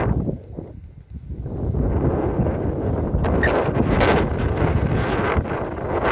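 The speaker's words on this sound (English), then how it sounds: "Yes, it's windy" Strong, steady wind on a high mountain pass roaring and buffeting against the microphone, a low rumbling gust that swells slightly and never lets up.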